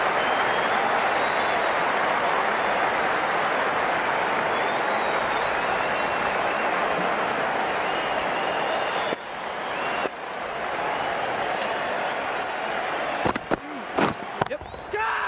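Crowd applause in the Cricket 19 video game during a Scotland versus Zimbabwe match, a steady, loud wash of clapping and cheering that dips and breaks up toward the end with a few sharp knocks.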